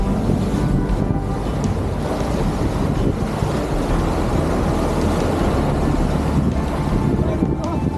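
An old 34-foot sailboat surges downwind through ocean swell at up to 11 knots, with continuous loud wash of water and buffeting wind close to the microphone.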